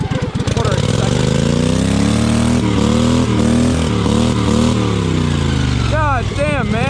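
A home-built race mower's engine revs hard up close. The loud buzzy note rises and falls through several throttle sweeps and then settles, and someone talks excitedly over it.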